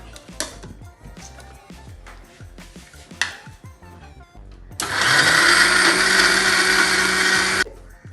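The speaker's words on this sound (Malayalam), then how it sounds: "കുറച്ച് വെള്ളം ഒഴിച്ച് നമുക്കിത് അരച്ചെടുക്കാം." A kitchen mixer grinder whirs loudly for about three seconds, grinding roasted coconut with chilli, pepper and cumin in a little water, after a stretch of clinks and small kitchen knocks.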